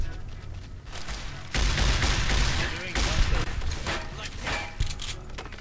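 Gunfire from enemies in Fallout New Vegas, a dense, sustained burst of shots running for several seconds at moderate loudness, with a voice talking over it.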